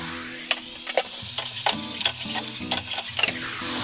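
Sizzling frying in olive oil for a Japanese-style mackerel pasta, a steady close crackle broken by repeated clacks of a utensil stirring the pan, with no talking.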